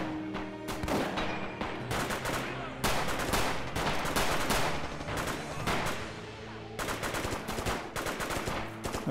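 A grenade booby trap goes off in the Red Orchestra 2 World War II shooter, a dense roar of blasts and crackling gunfire that keeps rumbling loudly throughout.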